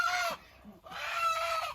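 Native red village roosters cluck in their coop in two loud, close bursts separated by a short pause, with no one talking.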